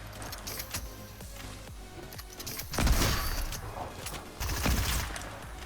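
Gunfire in a Fortnite battle near Risky Reels, with a hunting rifle among the weapons, sounds as dense bursts of shots. Two louder volleys come close together and the rest is steady distant fire.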